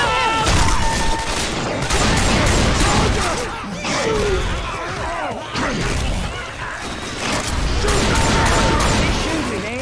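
Gunfire in Left 4 Dead 2 during a co-op Dead Center session, dense rapid shots and crashing impacts firing almost continuously, loud and close, with players shouting over the fray.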